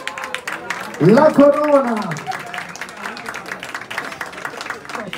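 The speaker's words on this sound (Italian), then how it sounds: "facciamo un applauso" Applause from an audience at a beauty pageant award ceremony swells briefly under a host's amplified voice, with a sung or tonal phrase rising over it before the talk carries on.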